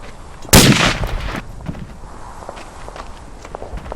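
A single sharp, loud rifle shot cracks close by in the World War I shooter Verdun during a rifle deathmatch, followed by faint distant shots and scattered footsteps.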